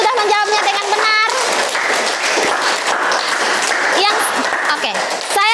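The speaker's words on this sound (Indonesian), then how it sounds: "di kelompok 1 dan kelompok 2 kita tepuk tangan dulu" A classroom of students applauds two groups, a dense and steady wash of many hands clapping at close range with voices and chatter mixed in throughout.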